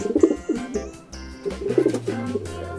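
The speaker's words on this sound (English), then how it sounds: "Pigeon." A pigeon coos in low, soft, rounded notes, repeating several times over a few seconds, close and fairly clear with no talking.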